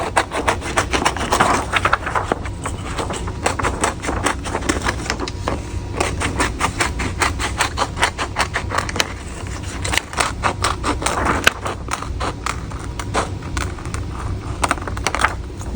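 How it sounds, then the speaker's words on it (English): Scissors snip rapidly around a printed heat-transfer design before it goes onto a shirt in an auto heat press, a long run of close, crisp, evenly spaced cuts with brief pauses. "I'm gonna go ahead and cut this really quickly, just around here before we press it"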